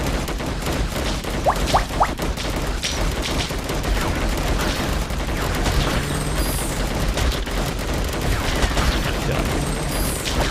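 Rapid gunfire from upgraded defensive guns in the Defend Your Life game crackles continuously, a dense fusillade with scattered booms under a brief spoken word.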